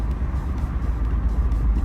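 A $400 1995 Honda Civic EG hatchback on its first drive at about 35 mph, heard from inside as a steady, close low engine and road drone with no break across the short stretch.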